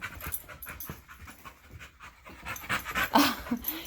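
A Boxer-Pit Bull mix pants close by in quick, rhythmic breaths, with a few soft whimpers and a louder burst of breathing near the end.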